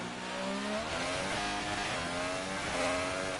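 F1 car in the F1 2018 racing game braking hard on the back straight at Austin, engine note stepping down through rapid downshifts, loud and continuous with no talking.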